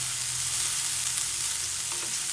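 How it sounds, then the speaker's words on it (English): Steady crackling sizzle of onions frying in a pan on high heat, continuous and close, with no voices. "you can still hear the kind of sizzle"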